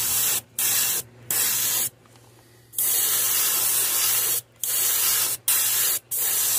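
An airbrush with a worn nozzle sprays paint onto a fishing lure in repeated bursts of loud hiss, each cut by short pauses, with one longer gap partway through.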